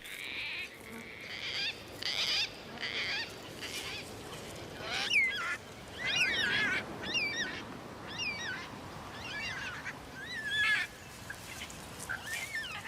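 Gang-gang cockatoos calling in Australian bushland, a series of creaky, rasping squawks in irregular bursts, some near and some farther off, over soft background hiss.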